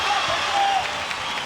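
A boxing-match crowd in a Tucson arena rises and applauds, a dense continuous roar of clapping and cheering that stays at a steady level, with a commentator speaking over it.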